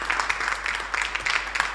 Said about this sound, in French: Elles peuvent encore s'applaudir, mesdames et messieurs.